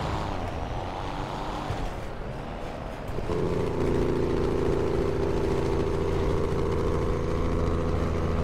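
Peterbilt truck hauling an excavator on a lowboy trailer in GTA 5, engine rumble shifting partway through into a louder, steady droning jake brake roar with strong low harmonics, sustained to the end, no talking.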